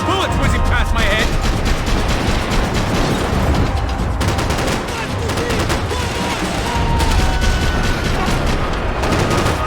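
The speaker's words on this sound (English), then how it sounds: "I can't concentrate with bullets whizzing past my head!" Gunfire in the video game Max Payne 3, dense volleys of shots and booms crackling loud and continuous, with voices shouting over the firefight.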